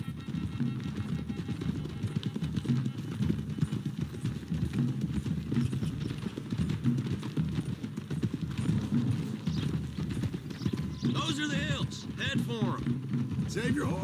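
Horses gallop along a road in Red Dead Redemption 2, their hooves drumming in a continuous, busy rhythm close by, with faint voices near the end.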